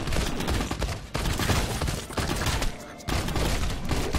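Rapid blaster gunfire in the space combat video game Pixel Privateers, with dense, loud volleys of shots and only brief breaks.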